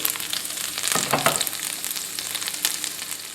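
Pan juices left from cooking chicken rissoles, seasoned with dill and sage, sizzle and bubble close up in a steady fry, with a few brief swells of crackling and spatters.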